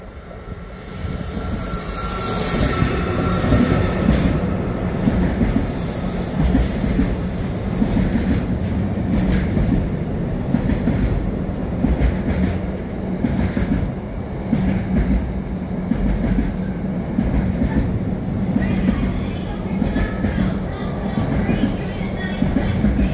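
A train runs at Preston station with a loud, steady rumble of wheels on rails. Faint squeals and clatter carry over it, and a voice speaks briefly underneath.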